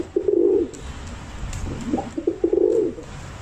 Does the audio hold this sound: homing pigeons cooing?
yes